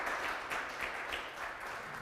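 A church congregation applauds after a baptism, a soft, fairly distant patter of many hands that swells in gentle waves over two seconds, no speech on top.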